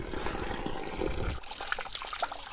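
Water trickles and splashes steadily at a traditional drinking-water spring in a remote part of Karbi Anglong, with a glass left beside it; the flow stays close and continuous, growing a little softer partway through.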